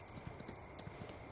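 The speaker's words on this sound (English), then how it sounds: "But you can ride your horse around." Horse hooves clip-clopping at a steady walking rhythm while riding at night in Farming Simulator 19, quiet and continuous with no other sounds.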